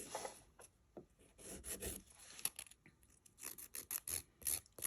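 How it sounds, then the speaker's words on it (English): Nail file rasping off builder gel on a fingernail, quick close scratchy strokes in an irregular rhythm, faint and intimate with no talking. "so you can see how far down you're filing off that builder gel"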